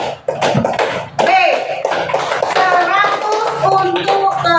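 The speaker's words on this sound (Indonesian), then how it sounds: "tepuk tangan untuk kelompok" A class of young schoolchildren claps for a group in a classroom, with a burst of scattered hand claps near the start, followed by children's voices chattering and calling out.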